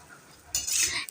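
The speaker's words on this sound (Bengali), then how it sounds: "এরপর ভালো করে নাড়িয়ে চাড়িয়ে নিয়ে ভালো করে ভেজে নেওয়া হলো।" Egg chowmein stirred and fried in a pan with a little salt: a quiet start, then a sudden loud burst of sizzling and scraping close by, with no talk.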